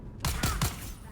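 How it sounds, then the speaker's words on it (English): Three sharp gunshots crack in quick succession during a firefight in the video game Dune, close and punchy, fired by an unseen shooter. "I don't even see who's shooting at me."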